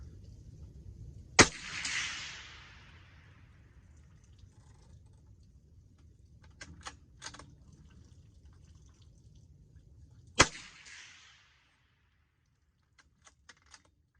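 A Rossi RB22M .22 magnum rifle fires at a paper target: two sharp, loud cracks about nine seconds apart, each with a short ringing tail, faint clicks in between, over a low outdoor rumble.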